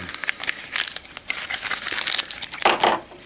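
Paper wrapping crinkles and tears as it is pulled off a Transformers Operation Omega decoy toy, a close run of crisp rustling and crumpling bursts with a louder tearing crunch near the end, and no voices.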